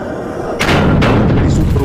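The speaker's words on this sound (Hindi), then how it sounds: "लगातार गोली चलने की आवाज दूसरे ज़ॉम्बी के कान में चली गई" Cartoon-style gunfire aimed at zombies in an animated horror story: a loud burst of shots and booms kicks in after a quiet start and keeps going as a dense, continuous barrage, with no speech.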